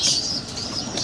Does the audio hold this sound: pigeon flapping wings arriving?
yes